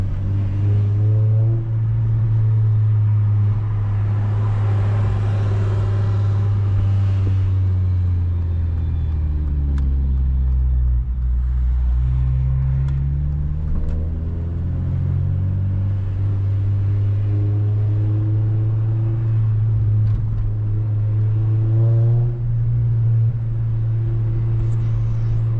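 The engine of an 8th gen Honda Civic Si with VTEC, driven with a check engine light on, drones loud and close from inside the cabin, its pitch rising and falling through repeated revs and shifts.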